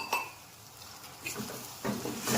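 A spoon stirring a tomato curry mixture in a pan, with close, intermittent scrapes and metallic clinks against the pan, about four separate strokes over a quiet background.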